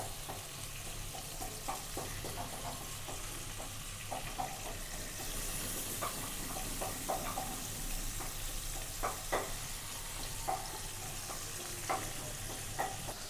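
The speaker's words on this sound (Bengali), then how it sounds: "এক পাশে ইলিশ মাছ ভাজি করতেছি" Hilsa fish frying in a pan, a continuous dense sizzle with scattered pops and crackles throughout, close and steady, with no talking.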